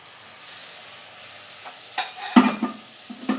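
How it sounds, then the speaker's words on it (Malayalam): Pineapple is stirred into a spice mix in a pan for a sweet, sour and spicy pickle, with a soft sizzle and a few distinct scraping stirs near the end. "പൈനാപ്പിളും കൂടെ നന്നായി ഒന്ന് മിക്സ് ചെയ്തെടുത്തിട്ടുണ്ട്."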